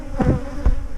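Bees buzz around nuc hives with a close, steady hum that swells in a couple of brief passes as insects fly near, and no voices are heard.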